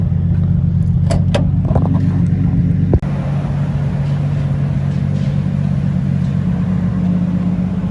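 An obnoxiously loud Nissan R32 sedan driving on Advan RG wheels, its engine droning heavily and steadily up close, with a brief thump about three seconds in.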